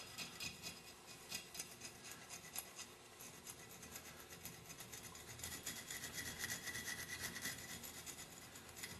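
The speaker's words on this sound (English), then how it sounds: "And this is pretty tough, this corrosion. See it? A lot of it you got to scrape off." Tough corrosion scraped off a part from a Meyer E-60 snowplow pump: continuous close rasping and scratching strokes, steady and dense throughout, with no voices.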